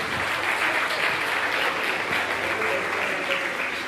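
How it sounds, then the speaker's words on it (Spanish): A church congregation breaks into sustained applause, a dense, steady wash of many hands clapping at close range with no talk over it. "Démosle un aplauso."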